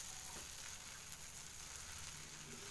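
Normal dosa batter made from a home-ground batter sizzles steadily on a hot pan as it is spread around in a round, with a continuous close crackling hiss and no talking.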